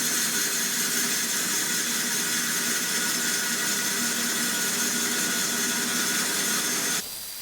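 A power saw cuts through wood for a card table in one continuous, fairly close rasping run that stops abruptly near the end, leaving quieter background.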